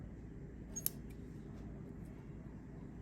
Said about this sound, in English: let's cut this big leaf halfway.